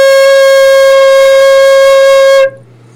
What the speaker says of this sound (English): So now let's learn C,